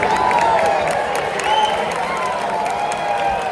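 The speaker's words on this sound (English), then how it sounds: "Cheering for us, Sean." A large crowd cheering and applauding continuously, a dense roar of clapping and shouts, loud and steady throughout with no break.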